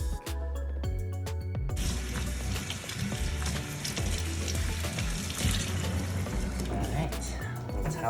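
A tap runs steadily as a hair mask and toner are rinsed out of blonde hair at a salon sink, water splashing continuously under speech for the whole stretch after a brief pause near the start.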